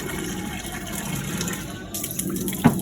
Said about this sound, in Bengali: শুধু বালতিতে জল ভরেই যাবো সারাদিন ধরে